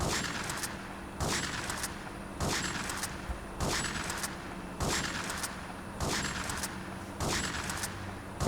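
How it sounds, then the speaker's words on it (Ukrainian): Repeated bursts of gunfire in the video game GTA 3, about one every 1.2 seconds, each a sharp crack with a brief tail, over a continuous low rumble. "Але в повітря будемо стріляти з пампушки."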